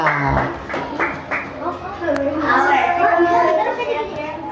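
Students in a classroom give a brief burst of clapping that quickly fades into children's chatter and talking.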